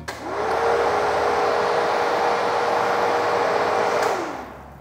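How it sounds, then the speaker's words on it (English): Intercooler fans on a supercharged V8 drift truck whir up into a loud, steady whooshing roar with a faint tone, hold for a few seconds, then spin down. "Fans are kind of loud, louder than I was expecting, honestly."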